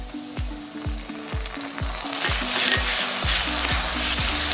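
Ginger, garlic and green chilli paste fries with browned onions in a pan for a pea curry. A loud, steady sizzle runs throughout, punctuated by regular rhythmic stirring strokes about twice a second.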